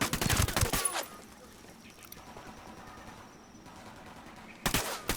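Gunfire in Ghost Recon Wildlands, a loud burst of rapid automatic shots at the start, a quieter stretch with faint ambience, then another dense burst of firing at the end.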